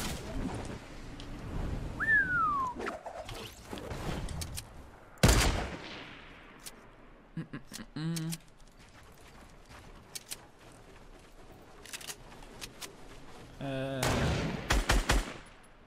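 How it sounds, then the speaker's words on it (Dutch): Gunfire in the Fortnite Battle Royale video game, with a single sharp shot midway and a rapid burst of shots near the end, scattered among other game effects and a brief whistle. "Ik hoor schoten."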